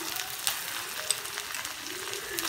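Chopped garlic sizzles as it is sautéed in a pan, a steady broadband frying hiss with faint stirring clicks, heard close and alone at low volume.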